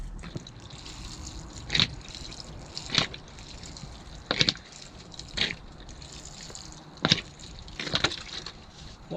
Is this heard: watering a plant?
yes